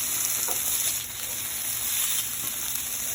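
Food fries in hot oil in a pan while being stirred around, giving a continuous crackling sizzle at close range with faint scraping of the stirring and no voices.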